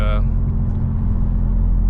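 A BMW M4 Competition with downpipes, a midpipe and its exhaust valve controller set closed gives a steady, close, low droning rumble throughout, with a brief burst of speech at the very start.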